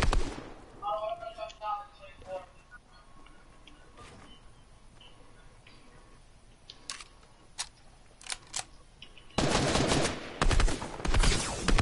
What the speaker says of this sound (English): No, it's a bear assault rifle